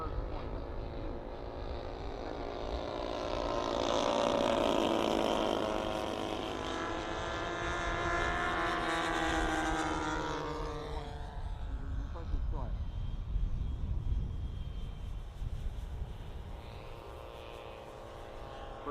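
Propeller model aircraft at an airshow at Popham, a steady engine drone that swells to a loud pass mid-clip and then fades, with crowd chatter and a commentator's voice beneath.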